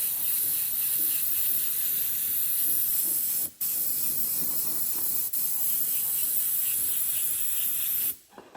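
Steady close hiss of a spray gun dusting a light coat of paint over a Harley-Davidson motorcycle panel, continuous for several seconds with two brief breaks where the trigger releases.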